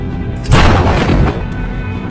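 A single loud gunshot in a film scene: a sharp booming report that decays into a short echoing rumble.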